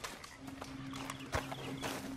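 Horse hooves clip-clop in the Western game Red Dead Redemption 2, a soft, steady rhythm of hoofbeats at low volume with a faint, sustained background tone.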